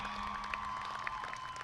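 Audience applause for students standing for recognition at a high school graduation ceremony, a steady, distant wash of clapping spread evenly across a large hall with a faint electrical hum underneath.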